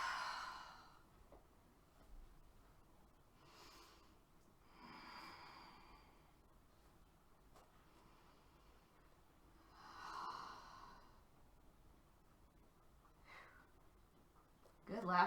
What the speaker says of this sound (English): Good, last deep breath here.